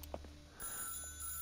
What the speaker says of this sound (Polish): to idziemy odebrać ten telefon